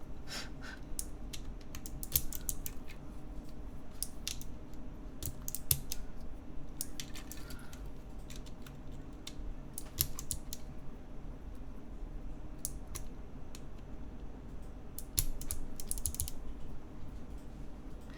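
Clicky mechanical keyboard switches on a GDK Lab DK1-60 build clack in quick, irregular bursts of typing, close and crisp over a faint background hum, with no talking.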